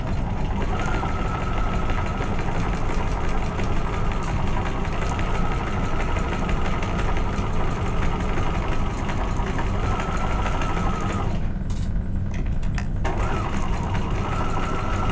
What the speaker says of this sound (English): And stitch exactly on top of that line.